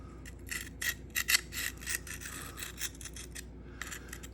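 Sharpening strokes of a Sharpal field sharpener across an S110V steel Spyderco knife blade, a run of close, scratchy rasping passes in uneven rhythm, some louder and sharper than others, with short pauses between.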